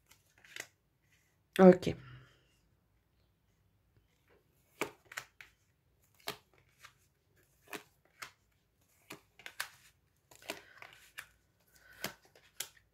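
A deck of tarot cards being cut and handled at a table, giving soft scattered slaps and riffles, one louder burst early on, with a brief spoken word.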